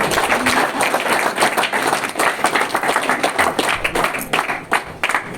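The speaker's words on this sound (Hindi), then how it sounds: "तालियां अपने लिए बजाओ" An audience clapping for themselves after a seated session on avoiding corona, a dense, lively burst of many hands close by with uneven sharp peaks that continues the whole time.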